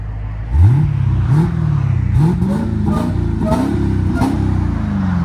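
A 2023 Dodge Charger Hellcat with a Valvetronic muffler and Carven R-Series exhaust, valves closed, gives several sharp throttle blips over a steady muffled idle, close by and fairly restrained.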